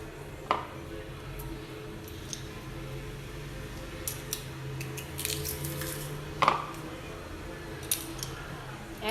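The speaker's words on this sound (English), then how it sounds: "So we're going to be crushing our garlic." Garlic is being crushed in a kitchen, with a few sharp squishing crunches and clicks spread across a quiet background hum, close and fairly soft.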